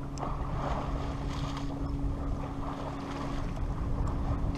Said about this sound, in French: on est sous voile avec un petit vent